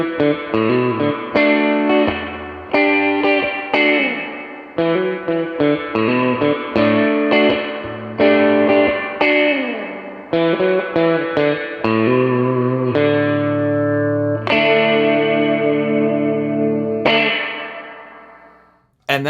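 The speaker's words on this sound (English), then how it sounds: "And that's just a crazy deep amp-like reverb effect." Electric guitar through a Boss Fender Legend Series reverb pedal with the dwell knob turned fully up, played as loud picked notes and chords that bloom into a deep, long spring-style reverb tail, ringing alone with no talk.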